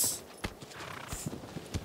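Horse hooves clip-clop in the video game Shadow of the Colossus, a few soft, irregular thuds from a trotting horse over a faint ambient bed, fairly distant and quiet.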